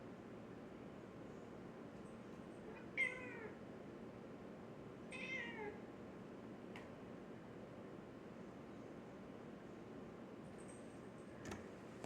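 A pet cat meows twice, faintly and a few seconds apart, over a steady background hiss in a quiet room.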